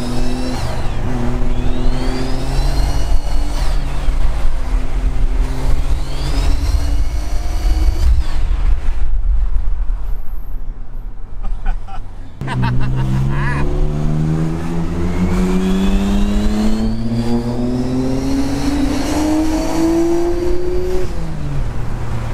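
Nissan GT-R engine revving and accelerating through gears, loud and close, with rising pitch sweeps, a brief quieter lull midway, then another strong pull building steadily.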